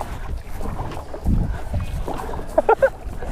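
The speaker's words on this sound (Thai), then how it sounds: "แจวแซงนะ ให้อุ๋ยคอยบังคับทางละทีมซัดละ ใส่ความเร็วละ" Oars dip and splash in the water with soft, uneven strokes, and a few quick knocks sound near the end over light wind.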